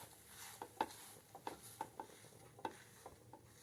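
Saffron-soaked milk stirred into semolina roasting in a pan for laddu, giving soft scraping strokes and faint sizzling in an irregular rhythm, quiet and close.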